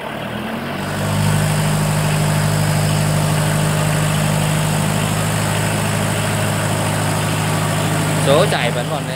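A Kubota 3202 tractor's diesel engine runs steadily in gear, a loud, close, low droning rumble that holds even throughout, with a brief voice near the end.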